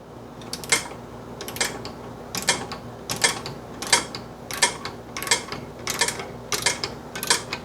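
Metal wrench ratcheting as rear brake caliper bolts are run down on a Honda Pilot, a steady series of about a dozen crisp, evenly spaced clicks up close with a faint background hum.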